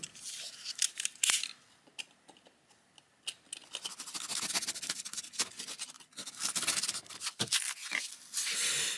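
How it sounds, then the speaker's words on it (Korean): A blade scrapes and saws through stiff pink foam insulation board in uneven bursts of rasping, crunchy strokes, close up, with brief pauses between cuts. "아이소핑크입니다. 이거 잘라가지고 재활용하면 되겠죠."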